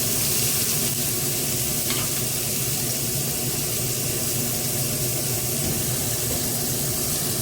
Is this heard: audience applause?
no